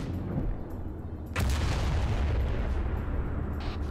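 A tank cannon in a video game fires a high-explosive shell, one sudden loud boom followed by a long, dense rumbling roar that holds steady for the rest of the moment.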